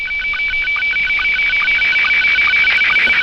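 A loud, continuous SSTV radio signal from a high-altitude balloon about 150 km away, with a steady high tone and rapid warbling, chirping pulses, buried in hiss and interference, picked up through a phone microphone.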